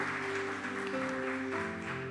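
Church congregation applauding during a worship service: a short burst of group clapping, fairly faint, mixed with sustained keyboard-like musical tones held underneath.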